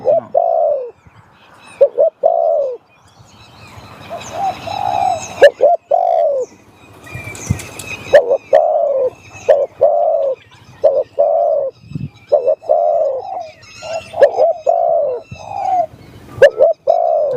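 A spotted dove coos repeatedly and close by in steady, rhythmic phrases, with brief pauses between, while faint chirps of other birds sound in the background.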